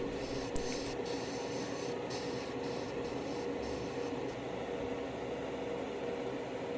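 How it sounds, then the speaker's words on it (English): An airbrush sprays blue paint onto an HG Gouf Custom plastic model kit, a steady close hiss of air running continuously throughout, with a few faint clicks near the start. "You want to spray light coats, or you want to thin your paint more so you don't cover up all the pre-shading work that you did."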